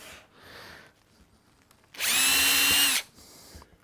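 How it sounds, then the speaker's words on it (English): A power drill whines loudly for about one second, drilling a pilot hole in wood, with quieter rustling before and after. "Then I want drill bit to drill pilot hole."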